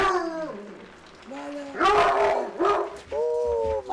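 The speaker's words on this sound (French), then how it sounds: "C'est une très bonne chienne, Galipette" A female dog whimpers and yips in high, wavering cries, mixed with short barks at close range. A person talks over and between the sounds.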